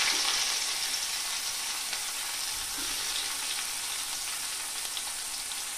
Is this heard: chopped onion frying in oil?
yes